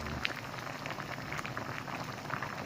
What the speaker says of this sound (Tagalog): Kumukulo ang sabaw.